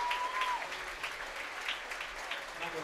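Steady applause from a gym crowd at a Division 2 sectional final between Central and Merrill as athletes step out to receive medals, a continuous moderate patter with a brief tone at the start and faint voices mixed in.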